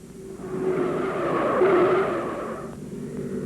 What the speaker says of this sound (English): He lost his Chevy number 47 through the turn and spun off the high banks down onto the apron.